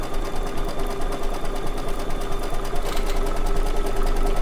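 An embroidery machine stitches a circular appliqué edge in the hoop with a fast, steady mechanical whir and needle chatter, close and continuous with no voices.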